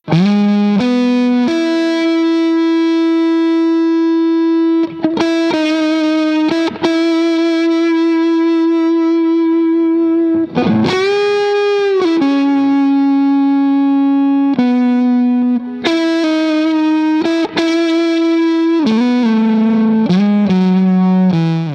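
Stratocaster electric guitar with a mod playing long sustained single notes with a thick, warm distorted tone, each note ringing out before sliding or changing pitch, loud and close.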